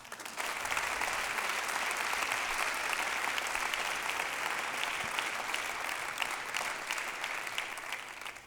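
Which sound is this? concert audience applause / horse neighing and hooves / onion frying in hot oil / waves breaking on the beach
concert audience applause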